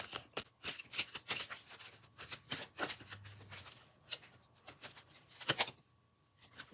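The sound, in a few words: shuffling tarot cards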